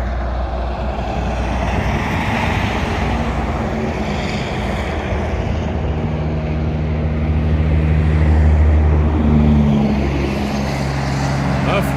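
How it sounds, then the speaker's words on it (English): Loud, continuous rush of highway traffic at Wallula Gap, with a heavy 18-wheeler's deep engine drone swelling as it passes close by, steady throughout with wind buffeting the microphone. "Sorry about the highway, folks."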